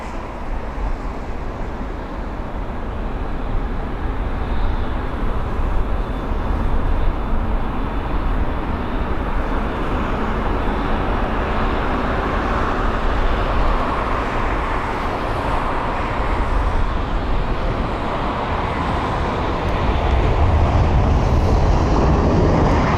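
Airliner AZ238 arriving at London Heathrow, a broad, steady jet roar heard from a distance that builds slowly and swells louder near the end, with no talk over it.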